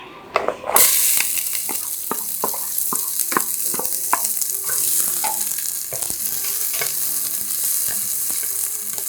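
Oil sizzles in a hot pan for a tilapia stew, beginning with a sharp hiss as something hits the oil, then a steady close crackle with scattered pops and light utensil clicks, no speech.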